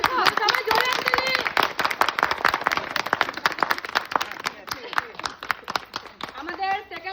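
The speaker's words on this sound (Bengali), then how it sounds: "সবাই জোরে হাততালি।" Group applause from an audience at a prize-giving on a Sundarbans trip, a dense run of claps across the whole stretch with a voice speaking over it near the end.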